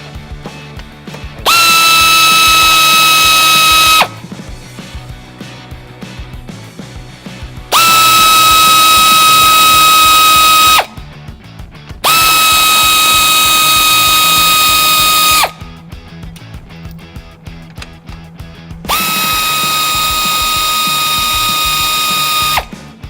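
Power tool bursts while removing 10mm upper grille bolts on a 2014-2015 Chevrolet Silverado, four loud whining runs of two to four seconds each, separated by short pauses with quieter workshop background between them.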